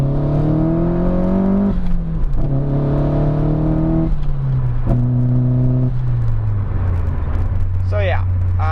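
An SR20-swapped Nissan 240 engine while driving, a loud close droning tone that climbs and drops through several gear pulls, with a voice speaking briefly near the end.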